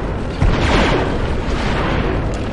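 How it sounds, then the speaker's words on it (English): Thermal detonator grenade blast against a gun emplacement in Star Wars Republic Commando, a loud booming explosion with a rumbling tail sustained through the clip. "The only way to take out that gun emplacement is with grenades."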